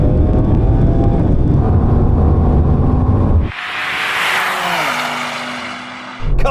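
A BMW M3 Touring and an Audi RS6 run a drag race: a loud, close engine roar builds and rises in pitch, then breaks off into a rushing, whooshing pass before falling quiet.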